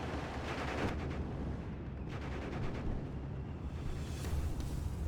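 A Churchill tank engages infantry in a World War II strategy video game, giving a dense, continuous rumble of battle with crackling gunfire and heavier thuds throughout, steady and moderately loud with no voices.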